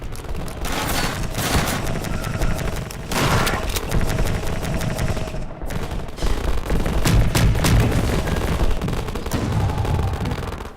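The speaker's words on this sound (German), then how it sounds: "Da schießt doch noch was auf mich." Sustained video game gunfire in Half-Life 2 on Xbox 360, dense rapid machine-gun bursts and fusillades ringing loudly nearly throughout with only a brief lull.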